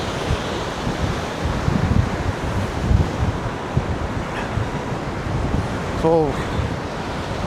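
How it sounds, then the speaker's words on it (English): Strong gusting wind blowing across the microphone with rough sea surf washing below on Blackpool's South Pier, a continuous loud roar with a brief voice. "wind picks up again. Really strong here. As you see. Sea's pretty rough."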